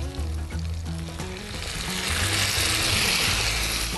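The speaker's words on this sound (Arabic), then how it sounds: "هبدأ أحط عليها شوية طماطم" Loud, close sizzle and crackle as tomatoes hit a hot pan, swelling into a dense frying hiss, with a low hum running underneath.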